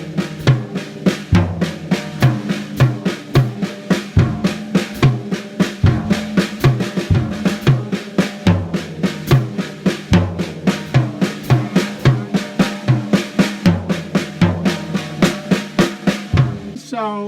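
A drum set plays a steady warm-up pattern that starts on the hi-hat, with tom hits and kick, continuous and loud throughout, close with no talking.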